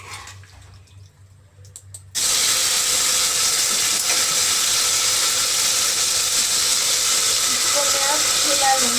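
After a moment of quiet, a loud, steady sizzle of cooked vegetables hitting hot ghee bursts in and continues without letting up, while making Hyderabadi vegetable biryani.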